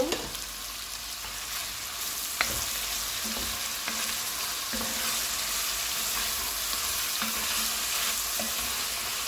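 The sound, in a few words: tomato added and frying with chicken and vegetables in a pot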